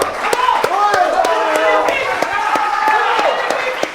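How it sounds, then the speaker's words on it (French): Scattered hand claps ring out at a steady beat over a lively crowd of voices at a live quiz game event, with people calling and talking throughout. "un tonnerre d'applaudissements."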